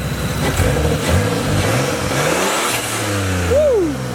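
Toyota Aristo with a 2JZ engine revving hard nearby, a loud mid-pitched roar that climbs and swells through several blips before dropping back, heard alone without talk.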